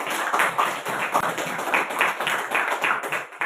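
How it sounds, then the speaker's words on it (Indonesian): A room of people claps together in a dense, steady patter of hand claps for a few seconds after a school-style presentation about Hindu history in Asia, with no voices over it. "Tepuk tangan."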